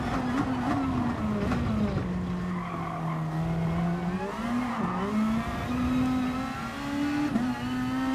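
A race car engine in the GT Sport video game drones steadily while overtaking, a loud close whine with the pitch slowly sliding down and then climbing again.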